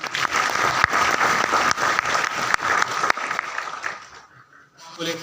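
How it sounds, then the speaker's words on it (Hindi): An audience at a webinar at IIITD bursts into dense, loud applause that runs steadily for about four seconds before tapering off into quiet. "तालियां।"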